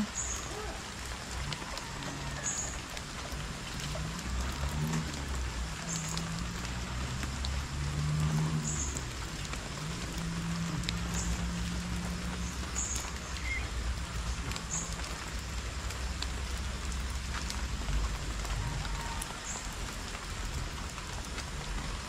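Steady rain falls and patters on a surface throughout, a constant hiss with occasional drips.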